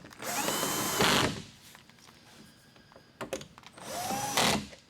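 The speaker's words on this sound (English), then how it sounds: "I have my electric screwdriver clutched out really early" Electric screwdriver tightening Phillips head screws on brake ducts of a Ferrari, two loud close whirring bursts with a brief ratcheting clutch chatter between them.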